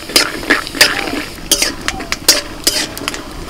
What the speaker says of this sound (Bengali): বাদামগুলোকে তেলের মধ্যে আমি একটু ভেজে নেব।